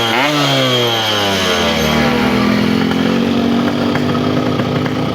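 An old Yamaha RX King motorcycle engine runs loud and steady close by, its two-stroke tone rising as it revs, then settling into a continuous buzzing idle with no talk over it.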